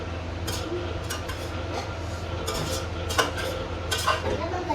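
A spoon scrapes and clinks against a pan as coriander and kasuri methi are stirred into chicken pasta, a series of sharp metallic knocks and scrapes over a low background hum.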